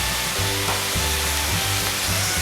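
Tomatoes sautéing in a pan for chana masala, with a loud, dense, continuous sizzle and a low rhythmic hum underneath, close and steady with no talk.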